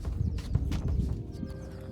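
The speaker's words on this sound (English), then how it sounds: "So we got the horses here" Horses at a mountain ranch in Colorado, hooves clip-clopping steadily nearby with an occasional whinny against a soft outdoor background.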